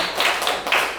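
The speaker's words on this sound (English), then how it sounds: "You can clap if you want." An audience at an open-house seminar claps in a brief burst, a dense close patter of hands with a few louder accents and no talking.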